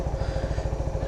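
A motorcycle engine idles while warming up, a close, rhythmic low putter with regular pulsing beats throughout the short stretch.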